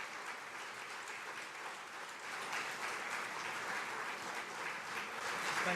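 Steady applause from a theatre audience at a season launch night, dense and even throughout, swelling slightly partway, heard at a moderate distance without talk.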